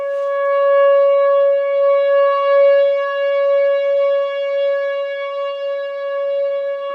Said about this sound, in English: So they're testing the sirens again.